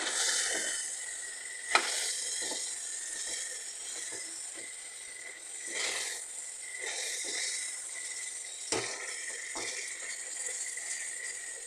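Chicken sautés in a pan with chili, turmeric and coriander powder, a soft continuous sizzle broken by occasional spoon scrapes and taps on the pan, heard alone without speech.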